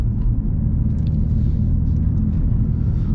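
Low, steady engine rumble from a 2018 BMW M3 Competition F80 with a dual-clutch transmission, heard from inside the car while it drives slowly through a parking lot exit. The drone stays constant throughout, with no voices.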